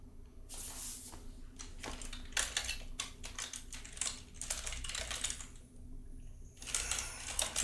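Rapid bursts of keystrokes clatter on a computer keyboard at close range, in quick irregular runs separated by brief pauses over a low steady background hum.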